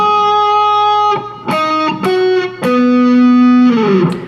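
Guitar playing the riff from a song, a sequence of distinct plucked notes and sliding bends with a slightly distorted, effected tone, played alone and close.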